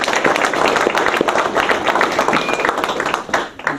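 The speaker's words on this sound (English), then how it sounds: "I think that deserves a round of applause." Dense applause and clapping from a banquet audience celebrating a school football team's first regional championship, loud and continuous for the full length with a slight dip near the end.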